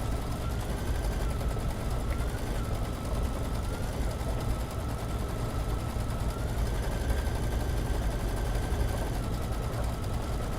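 Sewing machine stippling a quilt, a continuous fast mechanical stitching rattle with a low motor hum, steady and close for the whole stretch.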